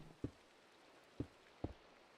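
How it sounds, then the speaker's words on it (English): Rain falling in Minecraft (All The Mods 9 modpack), a soft steady hiss with three sharp low thuds spaced through the clip, fairly faint and with no one talking. "Look at this awful rain."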